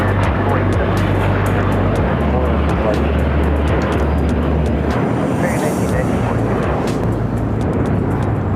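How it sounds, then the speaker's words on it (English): An American Airlines A321 departs Los Angeles LAX toward Phoenix, its loud broadband jet roar holding steady and close throughout, with a low engine rumble beneath and a voice talking faintly over it. "That was a American A321 heading to the Valley of the Sun, Phoenix, Arizona, flight 1994"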